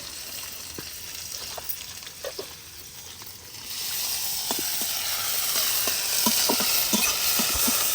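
Chopped onion and tomato drop into hot ghee in a pan for chicken khichuri. A quiet stretch with scattered stirring clicks gives way to a louder, steady sizzle, with scrapes and taps of a spoon against the pan.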